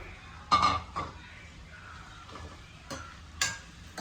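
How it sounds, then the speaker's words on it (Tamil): Fried cabbage manchurian balls being stirred in a pan, with a few distinct scraping clinks at irregular intervals over a faint background sizzle. "பொரிச்சு வச்சுருக்க உருண்டைகளை இதில் ஆட் பண்ணிவிட்டு நல்லா மிக்ஸ் பண்ணி விட்டுக்கோங்க"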